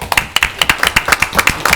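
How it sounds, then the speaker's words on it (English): A small group at a Manatee Port Authority meeting claps briskly for a couple of seconds, sharp, close hand claps in a quick irregular rhythm. "a little applause for the team."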